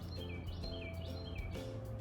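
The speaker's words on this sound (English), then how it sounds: "You hear the birds?" Birds chirp and sing in repeated short phrases over a low outdoor rumble, moderately distant and fairly quiet, with no talking.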